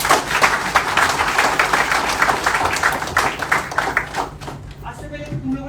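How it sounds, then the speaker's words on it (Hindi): Workshop audience bursts into loud clapping for people called up front, rapid dense applause that thins out near the end as a voice begins speaking over it. "एक बार इनके लिए जोरदार तालियां यार"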